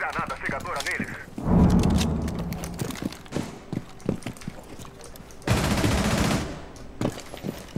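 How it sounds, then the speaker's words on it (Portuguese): A flash grenade goes off during a Rainbow Six Siege match, a loud blast burst amid rapid gunfire, then a second sustained bang burst a few seconds later, with game noise throughout. "Granada cegadora neles"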